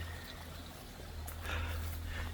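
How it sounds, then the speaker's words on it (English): A small creek flows at the bottom of a trail in Costa Rica, giving a soft continuous trickle and gurgle that swells slightly toward the end under a low steady rumble. "there's a nice little creek here at the bottom"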